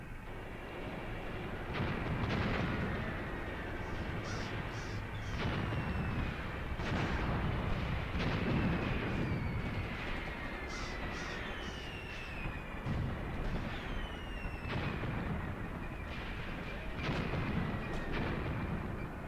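Mortar and artillery fire in Graviteam Tactics during a Kharkov 1942 battle, with distant booming impacts repeating at irregular intervals over a continuous low rumble and no talk.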